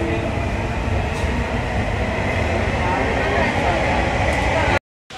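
Steady rumbling and rattling of a metro train in motion fills the space, continuous and close, cutting out abruptly near the end.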